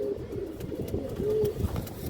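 Soft, low cooing from a pair of Sabji pigeons, old-breed birds on a farm, rolling in a few gentle phrases close by with faint background noise.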